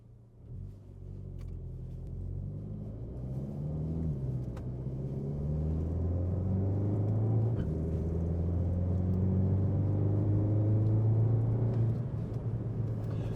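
A car lapping a race track on Vitour Tempesta P1 tyres, with a steady in-car engine drone that climbs and shifts through gears, rising and falling in pitch under constant road rumble and no voices.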